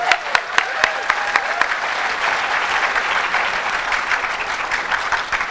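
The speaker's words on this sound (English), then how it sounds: "That actually deserves applause." Sustained applause from an Anime Expo 2016 panel audience, dense steady clapping with a few sharper claps at the start, continuing at even strength to the end.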